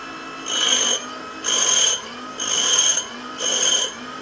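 A small carbide grinder wheel, soaked with coolant for cleaning, whirs in four evenly spaced bursts, each dragging and easing as something is pushed against the spinning wheel.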